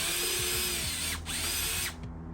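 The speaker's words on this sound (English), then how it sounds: "You can take a drill or you can take a screwdriver. I highly recommend a drill." A cordless power drill backing out exterior Phillips head screws from an old storm door, whirring loudly at close range in a few quick bursts with short pitch drops between them, then winding down.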